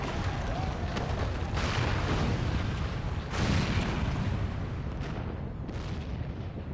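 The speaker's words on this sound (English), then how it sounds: "The main tower just collapsed. You heard it too, didn't you? It must have been the cannon at Castrum." Cannon fire bringing down a tower in Final Fantasy XIV, a sustained loud rumbling roar with heavy crashing surges across the whole stretch, dense and booming.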